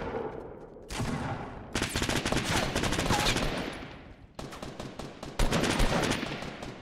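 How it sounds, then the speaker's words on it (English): Loud gunfire bursts in the video game Fortnite, with shotgun blasts among rapid shots, heard in three dense clusters separated by short gaps, with a faint voice in the background. "Shoot him with my shotgun."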